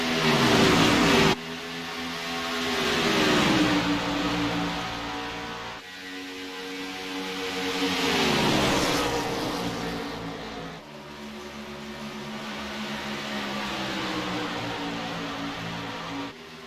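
Stock cars race around the track at a SOMO All-Star event in Charlotte, with loud engines that rise and fall in pitch as the pack roars past in three long sweeping waves, no voices.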